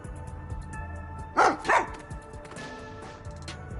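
Two sharp dog barks in a video game stand out a moment apart over a quiet, humming game background.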